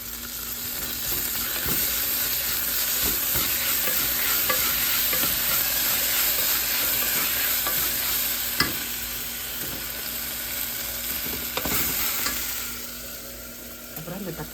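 Ginger garlic paste, a heaped spoonful, sizzles steadily in a hot pan while being stirred, with scraping strokes of a spoon recurring through a continuous close frying hiss; no one speaks.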